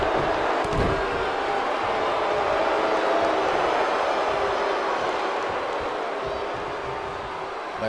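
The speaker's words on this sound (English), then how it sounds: "Crowd going." A crowd roars steadily in a WWE 2K19 wrestling video game, a dense continuous cheer lasting throughout at a constant loud level.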